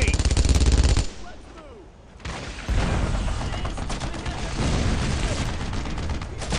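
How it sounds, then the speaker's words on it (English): MG-42 machine gun fire in the WWII shooter Brothers in Arms, loud rapid bursts that cut out briefly then resume in a sustained roar of battle gunfire. "Take that MG-42."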